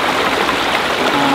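Creek water pours steadily over bedrock at a weir built with large boulders, making a loud, dense, continuous rush heard up close with no voices.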